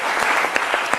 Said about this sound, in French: Et ça s'applaudit.